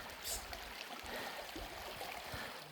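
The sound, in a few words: stream water at a creek crossing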